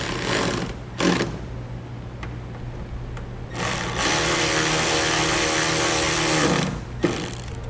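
A power driver whirs in short bursts and then one longer sustained run as screws are driven back in to secure a light during wiring kit installation on a 2017 Chevrolet, loud and close.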